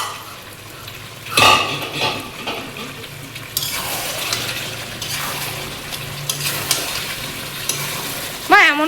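Mutton sizzles and is stirred in a pan for kosha, with steady frying crackle, scraping of a utensil against the metal and a few louder clatters.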